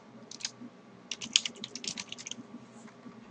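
Keys clattering on a computer keyboard as an email address is typed, a quick irregular run of close, light clicks with a short pause partway through.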